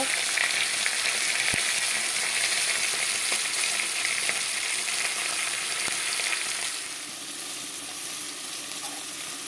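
Fish pieces frying in hot oil in a pan after being turned over, a steady loud sizzle throughout that drops a little toward the end, with no talking.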